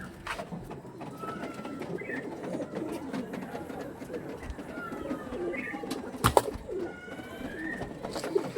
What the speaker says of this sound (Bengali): একদম অরিজিনাল হলুদ চোখের, পিলাঙ্কা চোখের পায়রা